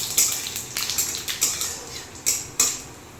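A spoon stirs bay leaves and cumin seeds in hot oil in a pan, giving repeated scraping clinks in an irregular rhythm over a steady faint sizzle, close and fairly loud.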